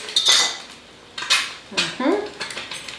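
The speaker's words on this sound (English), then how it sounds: "Now let's cut our avocado so we can smash it a bit." A knife cuts an avocado for a low-carb Mexican breakfast, giving several short clicks and scrapes of blade against the fruit and a hard surface, close and fairly loud, with no talking.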